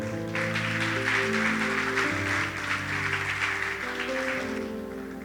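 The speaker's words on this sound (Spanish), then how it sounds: "Dele un fuerte aplauso al Señor" Applause for the Lord fills a church service, a steady wash of clapping over sustained organ or keyboard chords for about five seconds.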